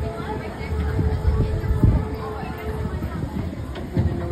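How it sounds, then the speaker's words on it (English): Tram car rolling along the Wildwood boardwalk, a steady low rumble with soft rhythmic clacks and rattles from the moving cars, with crowd babble mixed underneath throughout. "we're on the tram car."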